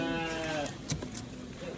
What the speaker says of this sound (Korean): 아기 염소한테 주래요.